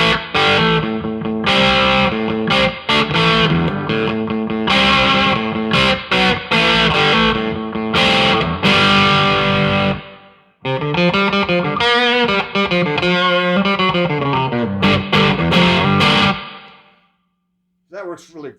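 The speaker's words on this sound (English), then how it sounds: "this is where you get a really good overdrive. Now I'm in the bridge position." Overdriven electric guitar on the bridge pickup, pushed through an OCD pedal into a Trimmed and Burnin amp, plays loud sustained chords and riffs with a brief break midway, then fades to quiet hum at the end.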